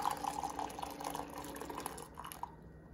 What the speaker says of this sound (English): it's as simple as pressing the lock unlock button and then holding down dispense